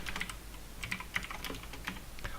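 Keys clack as someone types out code on a computer keyboard, a fairly quiet, steady run of close key presses with a few sharper strikes, no voice over it.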